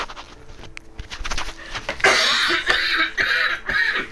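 Someone coughing after choking on a cough drop, a few harsh close coughs that grow louder and more forceful partway through, with breathy gasps in between.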